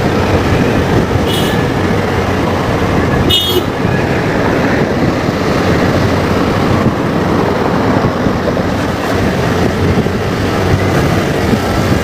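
An MRT 3 train passes Quezon Avenue station along EDSA, a steady loud rumble of rail cars under continuous traffic noise, with brief high squeals from the wheels, no voices.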